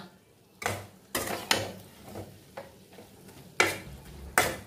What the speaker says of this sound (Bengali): এই যে গ্যাস কমানো আছে, তেলটা ফুটছে